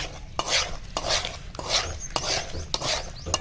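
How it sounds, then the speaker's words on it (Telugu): Rabbit meat pickle being stirred and mixed by hand with freshly added lemon juice, giving five close, rhythmic rounds of wet scraping and rubbing, each lasting under a second, with short gaps between. "నిమ్మకాయ రసం పోసుకొని మొత్తం ఒక్కసారి మనం కలుపుకుందాం"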